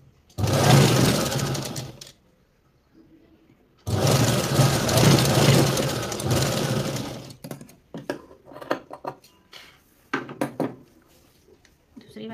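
Sewing machine stitching a straight seam along the side of a princess blouse, in two long loud bursts of rapid motor whir separated by a pause, then scattered clicks and handling sounds as the fabric is adjusted.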